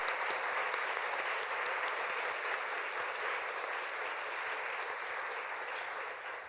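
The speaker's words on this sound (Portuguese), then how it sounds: "vamos dar uma salva de palmas para o Rodrigo" Sustained applause from a large crowd at a university anniversary event, dense steady clapping that holds throughout and fades slightly toward the end.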